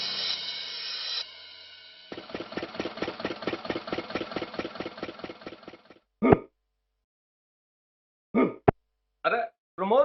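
On a farm field, a tractor engine idles with a steady chugging rhythm of evenly spaced low knocks, then cuts out, followed by a few short isolated bursts.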